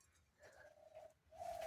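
Pairs of hobby pigeons on a farm cooing softly, a faint, low, rolling call that swells twice in a quiet setting.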